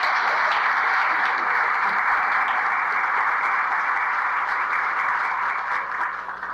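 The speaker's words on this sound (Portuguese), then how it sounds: "Essa merece uma salva de palmas" Steady, sustained applause from a lecture audience, a dense continuous wash of many hands clapping that holds evenly and only begins to thin near the end, with no talk over it.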